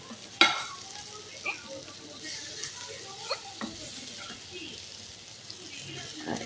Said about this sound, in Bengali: সম্পূর্ণ বাটারি ভাজা হবে আলুটা